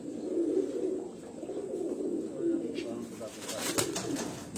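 Pigeons coo in low repeated murmurs on a rooftop loft in Sialkot, steady and fairly close, with brief rustling and faint higher chirps near the end.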